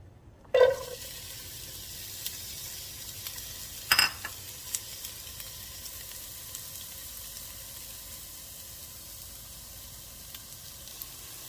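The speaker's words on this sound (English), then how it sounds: "the ghee is ready. I am going to add onion." Onion hits hot ghee in a pan with a sharp initial clatter and hiss, followed by a faint, steady sizzle with occasional small clinks of stirring.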